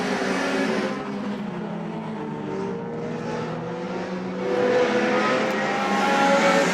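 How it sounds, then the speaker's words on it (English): Race cars at Claremont Motorsports Park roaring around the track on the final lap, a loud continuous engine howl that rises and falls as the field passes, with tire noise and a surge near the end. "Kevin Boucher in the 71 holding off Paquette as they race underneath the white flag."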